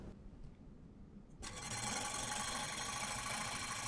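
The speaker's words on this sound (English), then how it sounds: "I'm going to go ahead and turn on the DC power supply and start it at 25 volts." Homemade DC motor built from a coffee can, powered at 25 volts with a sparking commutator, switches on partway through and settles into a steady buzzing hum against quiet room noise.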